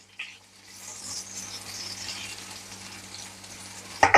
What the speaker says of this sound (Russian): Друзья, а пока жарятся наши баклажаны